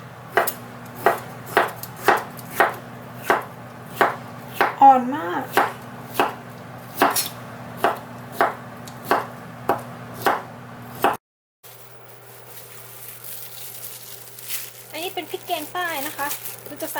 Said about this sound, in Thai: มาเตรียมหน่อไม้สำหรับผัดกันนะคะทุกคน หั่นสไตล์ตามใจชอบเลยนะ